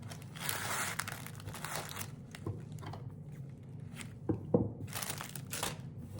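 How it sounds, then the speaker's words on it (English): Scissors snip and crinkle through cream-coloured 6-inch-wide tulle, cutting it into lengths for a gingerbread house angel ornament; soft rustling bursts with a few sharper cuts, close and quiet, with no talk. "I'm going to cut two 15 to 18 inch lengths of the tulle"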